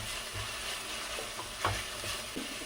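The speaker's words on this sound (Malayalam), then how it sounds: "എല്ലാം ഒന്ന് ചൂടായിട്ട് നന്നായിട്ട് വഴറ്റാം." Pepper chicken ingredients being sautéed and stirred in a pan, giving a steady low sizzle with occasional scraping clinks of a spoon, fairly quiet and with no voices.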